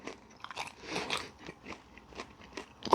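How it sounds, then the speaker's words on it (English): Fried chicken wing bone crunched and chewed up close, with repeated crisp crackling bites in an uneven rhythm and no talking. "Crunch that bone up."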